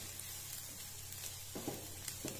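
Chicken thoran being stirred with ground coconut paste in a pan, a soft steady sizzle with a few scraping stir strokes near the end, close and fairly quiet.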